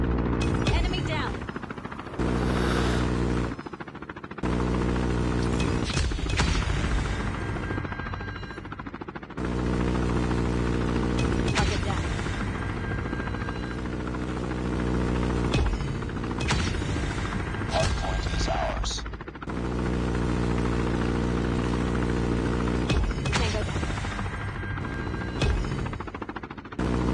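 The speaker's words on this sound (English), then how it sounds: "Deployed chopper gunner." A chopper gunner helicopter in Call of Duty Mobile thrums steadily, with bursts of rapid gunfire mixed in and brief dropouts, and someone speaks now and then over the noise.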